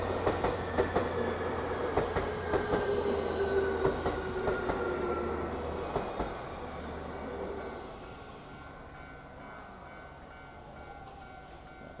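A train in Tokyo rumbles past with rhythmic clacking of wheels over rail joints and a faint squeal, loud at first and then fading as it moves away.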